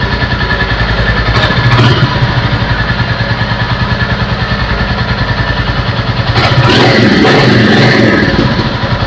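Royal Enfield Classic 350 motorcycle, 2025 model, with its single-cylinder engine running close by in a steady, thumping rhythm and swelling into two louder revs, one brief and one longer near the end.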